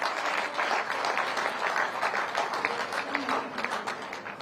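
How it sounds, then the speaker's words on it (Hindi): An audience at a government project inauguration led by a chief minister breaks into sustained applause, a dense wash of many clapping hands at an even, loud level with no pause. "तालियां होनी चाहिए आप सबकी तरफ से"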